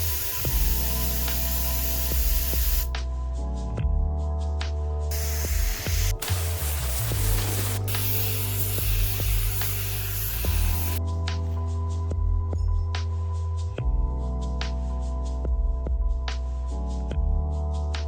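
Paint sprayed onto a Mercedes 190E Evolution 1 spoiler: two long hissing bursts of spray, the second lasting several seconds, over a steady tonal background.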